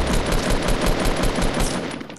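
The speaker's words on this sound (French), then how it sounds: "C'est la première fois que je tire de loin." Rapid bursts of distant automatic gunfire in Fortnite's 20-team mode, a dense, continuous rattle of shots that fades slightly near the end, with no talking over it.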